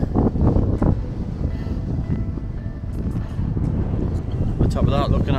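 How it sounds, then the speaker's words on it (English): Strong wind blows across a mountain ridge on Blencathra in the Lake District, a steady roaring rush with gusts buffeting the microphone for the whole stretch. "it's getting windier and windier"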